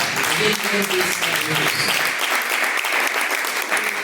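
A church congregation claps together during a live worship service, a dense steady patter of many hands, with a voice speaking over the first half of the applause.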